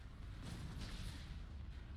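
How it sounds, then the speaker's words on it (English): Laser cannons and turbolasers firing in the Star Wars space strategy game Empire at War, a dense continuous barrage of booming blasts with a constant low rumble, loud and steady throughout with no talk. "Open fire on those laser cannons."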